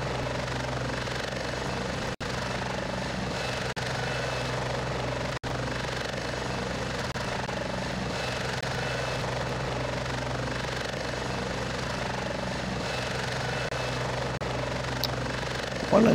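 A military helicopter in the combat game Heliborne drones continuously with a steady rotor thrum and engine whine, loud and close throughout, with a couple of brief dropouts.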